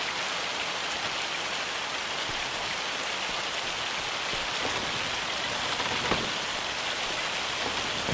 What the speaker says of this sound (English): It's raining in Scotland again.